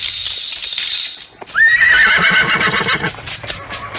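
A cartoon horse whinnies with a high, bright, wavering call, followed by quick clip-clopping hoofbeats, loud and close with no talk over it.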